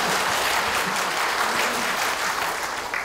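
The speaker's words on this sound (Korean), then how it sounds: "박수 치려면 확실히 치시는 거예요." An audience at a Chungnam community town-hall talk show claps steadily, a dense, even wash of applause that holds for about three seconds and eases slightly at the end.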